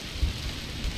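Rain in the video game DrizzlePath falls as a dense, steady hiss with low rumbling thumps underneath, continuous and fairly loud with no talk.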